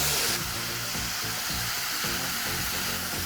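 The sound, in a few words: tofu sizzling in frying pan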